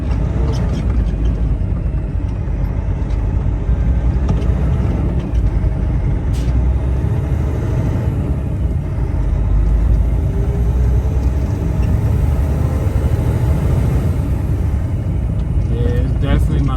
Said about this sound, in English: Yeah, it's definitely my turbo.